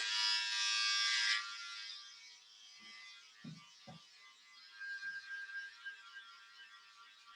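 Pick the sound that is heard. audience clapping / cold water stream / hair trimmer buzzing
hair trimmer buzzing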